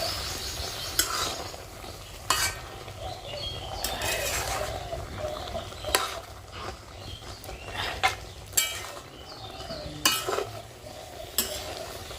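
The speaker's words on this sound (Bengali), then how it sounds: "রসুন তেলানি দিয়ে শাকটা বসিয়ে দিলাম" Leafy greens fry in garlic oil in a wok over a wood-fired clay stove, a steady crackling sizzle broken by sharp scrapes and clinks of a spatula against the metal at irregular intervals.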